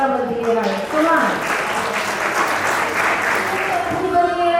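Loud, sustained applause from an audience at a company foundation day event and award ceremony, a dense wash of clapping with a voice talking over it throughout.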